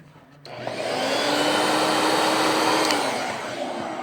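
A battery-powered electric air pump inflating a raft starts up and whirs steadily with a loud, breathy motor drone, then begins to wind down slightly near the end.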